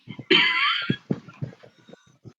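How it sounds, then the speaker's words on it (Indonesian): One harsh, loud cough bursts out, followed by a few shorter throaty coughs and breathy sputters trailing off. "Belum ujian kok wis batuk-batuk."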